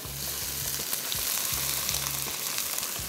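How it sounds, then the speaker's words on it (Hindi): Onions with ginger and garlic frying in a pan for a prawn masala, giving a steady close sizzle throughout, with a low rhythmic mechanical hum pulsing underneath and no voices. "प्याज हो गए फ्राई, इसमें शामिल करते हैं अदरक लहसुन और इसको करेंगे थोड़ा सा फ्राई"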